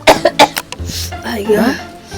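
A person coughs several times in quick harsh bursts, close by, followed by a low murmuring voice.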